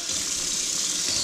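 Cold water poured into a cooking pan and swirled, a steady close gush of running liquid lasting about a second, with no talk.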